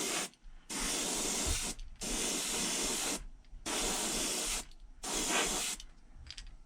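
An airbrush spraying paint in several long, steady hissing bursts with short quiet gaps between them, close and without speech.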